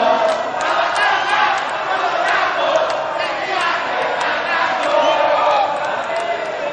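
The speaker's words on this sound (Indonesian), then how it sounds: "silakan kedua pendukung dari masing-masing paslon, silakan memberikan tepuk tangan" Supporters at the Central Java gubernatorial election debate of 2024 applaud and cheer as one loud, continuous crowd roar, with no break across the whole stretch.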